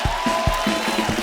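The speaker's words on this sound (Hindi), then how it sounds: "जोरदार तालियां सलमान भाई के लिए।" A comedy show studio audience claps for Salman Khan in a short, fairly loud burst, with separate sharp claps standing out from the steady crowd noise.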